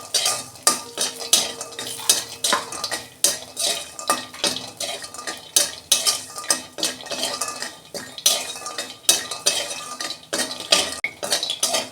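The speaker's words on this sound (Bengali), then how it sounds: "বড়িগুলো ভেজে নিচ্ছি" Lentil dumplings (bori) frying in oil in a pan, stirred with a metal spoon: a run of quick, rhythmic scraping and clinking strokes against the pan over a light sizzle, close and clear, with no talking.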